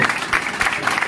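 A brief burst of audience clapping follows a company general manager's motivational speech, a steady dense patter with faint crowd murmur.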